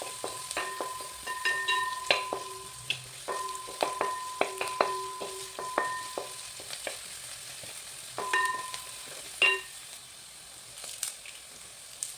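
Garlic frying in a pan for a Kerala fish curry, a soft steady sizzle under a run of light, rhythmic clinks and scrapes of a spoon stirring against the vessel, close and fairly quiet, with no talk.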